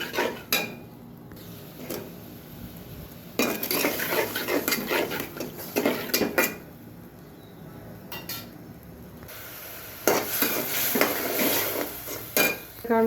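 Potatoes are stirred and sautéed in a metal pan with dried fish nearby, giving repeated scraping clinks and utensil taps over a steady low sizzle, in uneven bursts with short quieter gaps.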